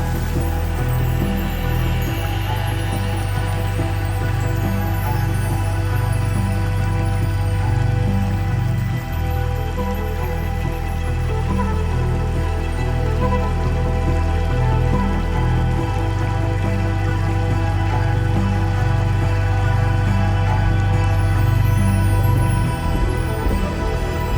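Steady rain pattering on a surface with a continuous wash of flowing water, dense and even from start to finish, with a low tonal hum running underneath.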